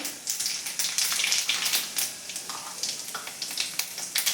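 Close, continuous crackling sizzle of mustard and cumin seeds frying in hot oil, with dense popping bursts throughout and no voices.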